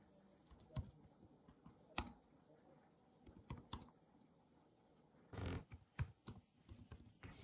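Typing on a computer keyboard in a quiet room, separate sharp key clicks spaced out at first, then a quicker cluster of taps near the end, close and clear with no talk.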